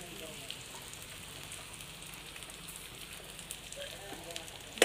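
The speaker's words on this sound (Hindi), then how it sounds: "हम लोगों का प्याज भून रहा है, लाल होने देंगे।" Chopped onions fry in a pan, making a faint, even crackle and fizz like light rain, with a brief sharp clatter right at the end.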